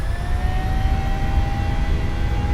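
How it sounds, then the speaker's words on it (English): Jet engines roaring at takeoff power on a PMDG airliner in Microsoft Flight Simulator, a steady, loud, broadband rumble with a faint sustained whine, no talking. "Engines are screaming out of here. Takeoff power is set."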